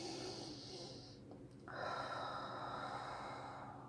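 Deep breathing during a guided meditation breathing exercise: a long, airy breath rises near the microphone, pauses briefly, then swells into a louder, steady rush of air.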